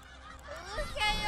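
Chickens in Elden Ring cackling and clucking in a short, rising burst of squawky calls, growing louder toward the end over low in-game ambience.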